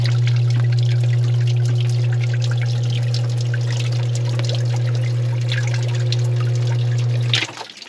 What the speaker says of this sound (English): Yeah, it's just a sump pump